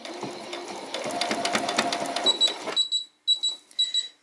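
A home sewing machine due for a service runs in a fast rattling burst, then stops and starts in short whirring spurts with high mechanical whines and clicks, close and fairly loud, no speech.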